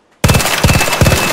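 Rapid automatic gunfire from a weapon in a shooter video game, loud and close, with sharp repeated bursts following an abrupt start.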